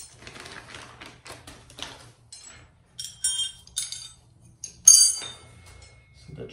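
A bag of garage door opener hardware is opened and sorted: scattered rustling followed by sharp metallic clinks and taps of small pins and clips, close and intermittent with quiet gaps.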